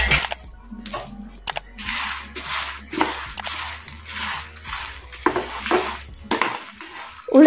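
Urad dal dry-roasting in a pan while being stirred, with repeated dry scraping bursts and light rattling of lentils against metal, close and fairly loud, in uneven strokes.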